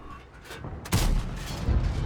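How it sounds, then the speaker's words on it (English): Tank cannon fire from a Swedish UDES 16 medium tank in World of Tanks: one loud, sudden boom that lingers into a rumbling tail, heard after a quieter stretch of engine and battlefield ambience. "Not sure if we hit that blind shot there."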